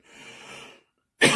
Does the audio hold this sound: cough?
yes